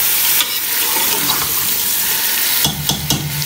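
Chicken and onions fry in a pot for shahi haleem, making a loud, steady sizzle close to the listener. Sharp scraping stir strokes sound near the end.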